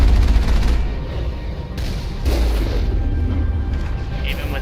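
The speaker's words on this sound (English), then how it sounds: "Even without all the turrets shooting at you." Automated turrets fire in the Mass Effect video game, producing loud, dense booming gunfire that continues almost without a break, with heavy low-end rumble and sharper bursts layered on top.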